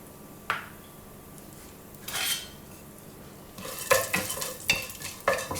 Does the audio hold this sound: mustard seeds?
yes